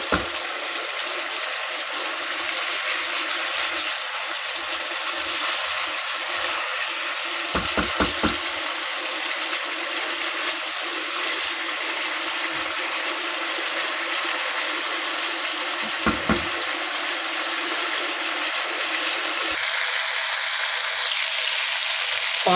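Steady sizzling and bubbling from chicken cooking in a pan over a high flame as its water dries off, continuous throughout, with a few brief knocks of a spoon against the pan.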